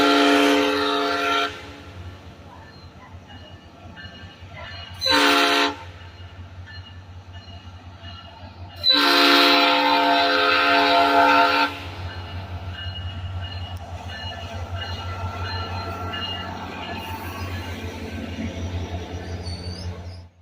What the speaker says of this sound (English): Here we see Loco 109 with a loud P5 horn leading a northbound train.